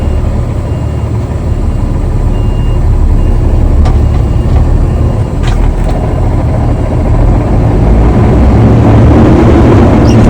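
A truck in third gear creeps forward at about five miles an hour with its brake valves released, a loud, steady low engine drone with faint clicks, and no one speaking.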